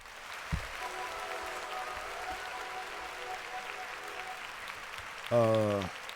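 Applause for the singer: a steady, moderately loud wash of clapping runs throughout beneath faint tonal music, with a short, louder burst of sound near the end.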